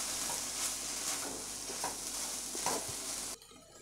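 Chicken paratha stuffing with red chili sauce and lemon juice being stirred and mixed in a pan, with a soft continuous sizzle and a few scraping strokes close by before it stops suddenly.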